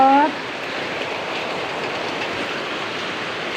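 Heavy monsoon rain pours down in a steady, dense hiss that fills the scene without letup, loud and close, after a brief tone at the very start.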